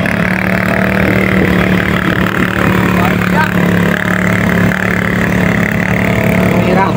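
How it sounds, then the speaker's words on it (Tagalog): A tour guide's motorbike engine labours steadily up a winding route, a continuous loud drone with no pauses throughout. "Mahirapan na yung tour guide namin yung motor niya."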